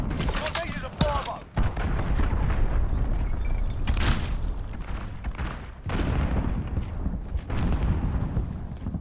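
Call of Duty: Modern Warfare battle with a cruise missile strike: dense gunfire and booming blasts roll continuously, with a heavy explosion about four seconds in under sustained rumble, loud and close.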